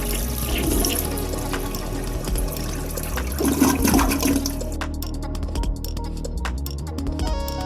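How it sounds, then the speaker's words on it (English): A household toilet is flushed, the tank and bowl draining in a loud rushing whoosh that gives way to a gurgling, sputtering trickle as the water runs out. "So flush the toilet, and this will empty some of the water in the tank and some of the water in the bowl."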